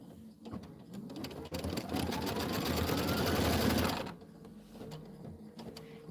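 A sewing machine stitches quilt fabric for a snowman pillow block, a rapid rhythmic whirring run that speeds up and holds for a few seconds before stopping, close by, with quieter handling noise around it.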